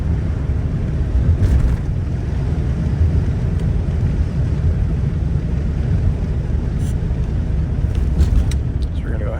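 A 1960 Cadillac Series 75 limousine cruises along a bumpy road at about 90 km/h, with a steady low road and engine rumble and wind noise, and a person talking throughout.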